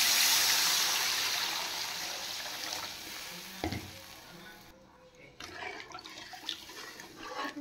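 Water hits frying spices for a katla fish curry, starting with a loud hiss that fades as it settles, followed by a clank and soft stirring and bubbling.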